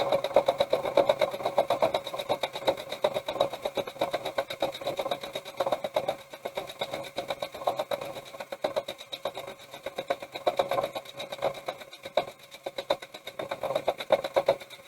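A sewing machine stitches a quarter-inch seam with a rapid, steady mechanical whirr and needle clatter, pulsing slightly as speed varies, close and without talk.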